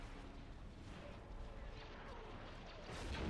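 Dense, rumbling starship weapons fire in the space strategy game Empire at War Remake, a continuous barrage of blasts and impacts that grows louder toward the end, with no clear voices.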